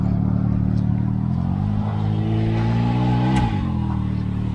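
A Can-Am Maverick Max side-by-side fitted with an Evolution Powersports CodeShooter tune drones loud and close, its engine note rising and shifting in pitch as it pulls, with no voices over it.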